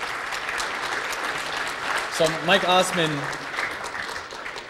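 Conference audience at Shmoocon applauding, a broad wash of clapping throughout, with someone briefly speaking over it midway.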